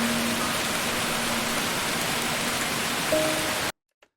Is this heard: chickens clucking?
no